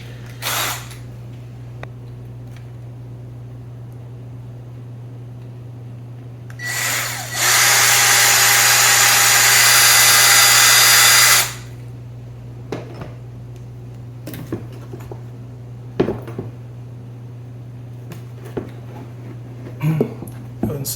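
A power drill with a bit runs in one continuous loud burst of about four seconds amid a rain barrel water pump setup, with a steady low hum underneath and a few clicks and knocks before and after.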